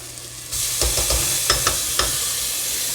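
Onions sweating gently in a pan, a steady soft sizzle running throughout with several light scrapes and clicks of stirring, close and moderately loud, no talking.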